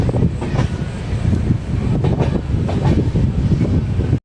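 The Pothigai Superfast Express from Sengottai to Chennai runs toward Sankarankovil station in Tamil Nadu, giving a loud continuous rumble with rhythmic wheel clatter and rattling from the cars, heard from on board without talk.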